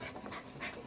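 A young heeler and Australian Shepherd mix puppy pants close by, quick soft breathy huffs in a steady rhythm, fairly quiet and without talk.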